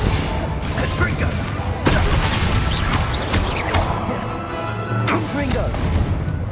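Explosive spells blasting during a Hogwarts Legacy duel, with several sharp booming impacts spaced a second or two apart over continuous clattering combat noise and shouted voices.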